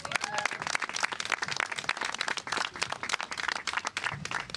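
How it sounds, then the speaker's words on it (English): A crowd at a public event at a Staten Island bakery breaks into dense, continuous applause and clapping that lasts throughout, with no voices over it. "Jill, give her a big round of applause."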